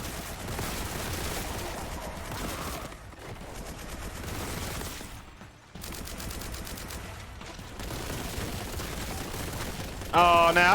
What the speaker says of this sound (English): I have discovered myself a Kraken bolt gun